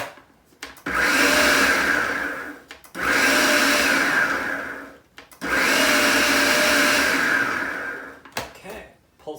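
A blender pulses coconut and cold butter in three long bursts of loud whirring, each about two seconds, separated by brief pauses and small clunks.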